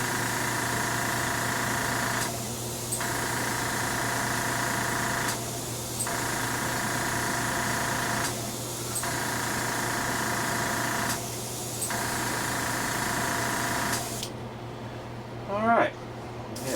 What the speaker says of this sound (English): So we have our guns, airbrush loaded up.